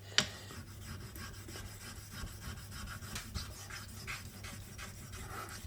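A Naniwa nagura stone is rubbed back and forth across a whetstone, making soft, close rasping strokes in a steady rhythm after one sharp knock at the start.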